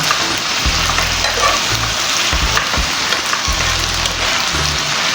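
Onion and garlic powder cooking down in a pan makes a dense, rain-like frying crackle that is loud and continuous, with scraping stir strokes coming and going and no talking.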